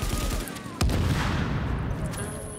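An explosion goes off in Tom Clancy's The Division: a sudden loud, broad blast cuts through steady gunfire-like noise and then trails into a dense rumble.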